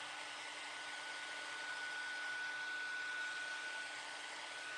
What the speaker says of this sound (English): have to use the dryer.